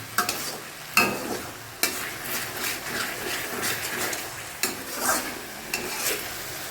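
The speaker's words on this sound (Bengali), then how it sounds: "এখন এখানে মশলা কষানো হচ্ছে।" Spices for chicken kosha sizzle and fry in a pan while a spatula stirs and scrapes them, with a steady crackle broken by sharp periodic knocks against the pan, close and clear with no talk.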